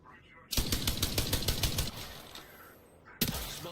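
Rapid bursts of smart-bullet gunfire in a video game, a fast rhythmic volley of sharp loud shots that pauses briefly, then resumes with another burst.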